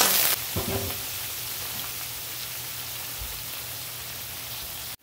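Parse fish fry in hot oil in a wok, giving a dense, steady, close sizzle like rain, with a brief louder burst at the start and a couple of soft knocks.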